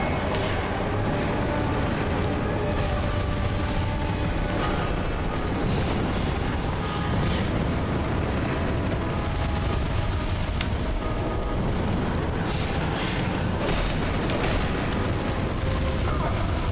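Dense, continuous Dark Souls 2 combat noise with rumbling pyromancy explosions and bursts layered throughout, loud and busy with no clear pauses.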